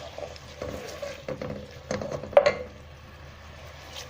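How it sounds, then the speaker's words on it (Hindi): Garlic and ginger frying in a pot over high heat for beef haleem, with soft sizzling broken by scattered clinks and scrapes of a stirring spoon against the pot, close by with no talk. "सबसे पहले लहसुन अदरक डालेंगे, उसको आंच थोड़ी तेज़ करके पकाते हैं"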